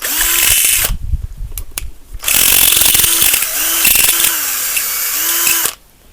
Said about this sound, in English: I just use one of these little grinding wheels.